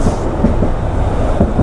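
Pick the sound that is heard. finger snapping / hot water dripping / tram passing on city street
tram passing on city street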